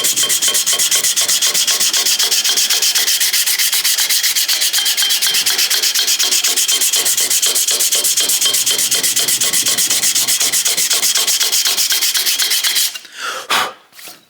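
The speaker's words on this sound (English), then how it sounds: "So get yourself a little file like that, just push down straight on it and you'll get a nice flat sand." A small hand file pushed across the cylinder barrel surface of a Harley-Davidson Panhead engine, a loud, continuous, close rasping scrape of quick strokes that stops abruptly near the end, followed by a few brief knocks.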